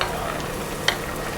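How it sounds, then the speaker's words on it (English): Onions frying in a pan next to bacon. The sizzle is a steady close hiss throughout, with a single brief clink or stir near the middle. "I'll put my onions beside the bacon"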